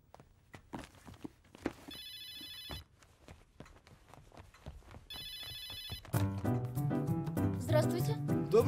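A telephone rings in two short electronic bursts amid footsteps and small room noises, followed by swelling dramatic film music; no talk over the rings.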